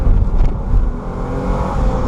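A 2014 Lexus IS350C F Sport accelerating, its engine droning loud and low inside the cabin with a rising, surging tone through a short burst of throttle.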